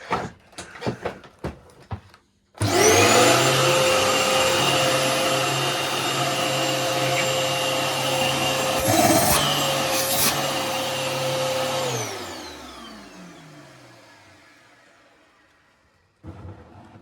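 A refurbished Dyson DC14 vacuum cleaner starts with a few clunks, whines loudly and steadily for several seconds with brief rattles, then winds down slowly.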